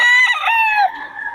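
A rooster crows once, loud and close, a single drawn-out call that bends downward at the end, heard among chickens brought for sale.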